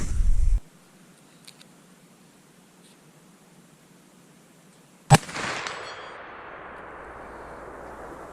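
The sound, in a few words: gunshots from reloaded ammunition at shooting range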